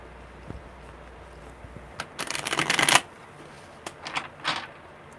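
Tarot cards riffle-shuffled in one loud, rapid burst, followed by two shorter, softer flutters of the deck close by, with no talking.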